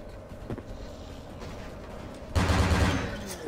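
Gunfire in Vampire the Masquerade: Bloodlines, a muffled burst of rapid shots that turns suddenly loud and dense toward the end, as if fired through a wall, over low background game noise.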